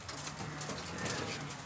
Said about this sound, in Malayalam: ഇതാണ് നമ്മളെ പ്രാവ്.